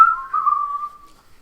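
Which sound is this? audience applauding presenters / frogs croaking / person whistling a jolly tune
person whistling a jolly tune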